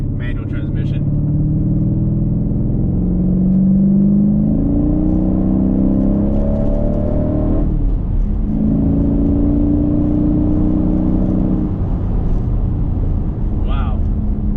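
Mercedes CLK550 with an M273 V8 and a manual swap accelerating at half throttle, a loud close engine note climbing through the rev range, a brief dip as it shifts gear, then rising again.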